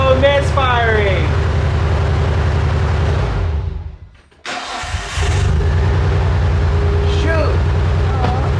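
A Nissan Skyline R34 engine idles with a misfire, loud and close, its rough uneven pulsing running steadily before cutting out briefly near the middle and then resuming, with voices talking over it.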